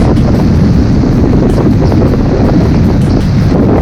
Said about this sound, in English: really strong wind up here, so really strong.